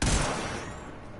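Charged-shot explosions from the Staticor weapon in Warframe-style sci-fi game combat, a loud burst of blasts at the start that trails off into a rumbling decay, with no talking.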